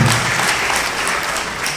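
A crowd at a memorial gathering claps in a dense, steady burst of applause that fills the short moment without a break.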